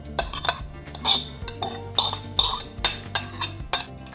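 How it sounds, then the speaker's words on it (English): Mixed vegetables being folded into bread stuffing, with a utensil repeatedly scraping and clinking against a bowl in an uneven rhythm of close, sharp strokes. "Next, I'm folding in some mixed vegetables."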